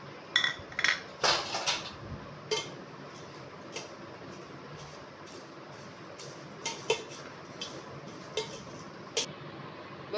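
A puffed rice snack mixture with lemon and fried vadiyalu is stirred in a bowl, heard as scattered clinks and scrapes of a spoon against the dish, with a cluster early on and sparse taps after.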